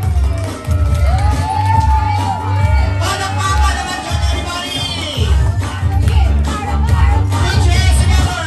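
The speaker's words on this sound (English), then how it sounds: "A big round of applause, please." A crowd at a first birthday party cheers and shouts over loud music, with a steady roar of voices and whoops and scattered clapping that runs throughout.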